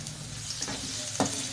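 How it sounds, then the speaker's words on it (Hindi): Onions hit hot oil in a pan for aloo baingan, giving a brief, soft sizzle with a light stirring scrape, close and quiet, no talk. "ऑयल गरम हो जाएगा, इसमें डालेंगे प्याज"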